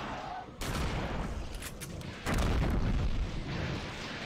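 Gunfire in the Eternal Darkness video game, a loud burst of shots at about half a second followed by a heavier blast two seconds later, with booming, reverberant noise sustained throughout.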